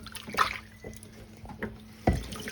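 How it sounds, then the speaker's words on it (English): Glass jars are rinsed under running water at a sink, with splashes and trickles and a few clinking knocks, ending in a louder gush of water. "Rinse them off."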